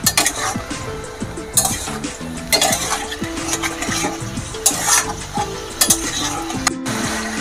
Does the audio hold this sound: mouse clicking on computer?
no